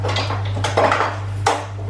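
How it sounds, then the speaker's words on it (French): Red onions tipped into a pan of olive oil, a couple of close clinks and a soft scrape of utensil against the pan over a steady low hum, no talking. "Donc là, j'y mets mes oignons rouges."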